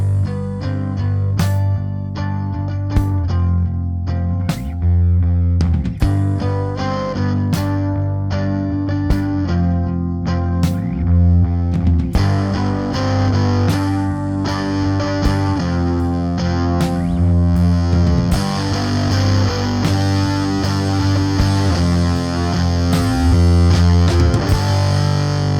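Electric guitar played through a Supercool Cutback pedal in its 0.01% gain clipping mode, a continuous stretch of strummed chords and picked notes with a lightly driven, effected tone, loud and steady with no talking.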